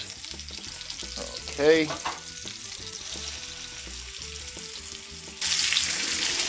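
Chicken sizzles steadily as it browns in a frying pan for keto chicken Florentine, a continuous hiss with a brief stirring scrape and a louder burst of sizzle near the end; a voice speaks one short word.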